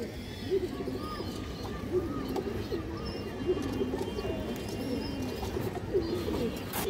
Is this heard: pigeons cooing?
yes